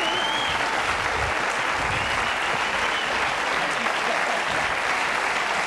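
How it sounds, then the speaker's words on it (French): A TV studio audience applauds loudly and continuously, a dense wash of clapping that holds steady from start to finish. "Je vous demande d'applaudir celle qui demain sera Madame James Coburn, Mademoiselle Paula Murad."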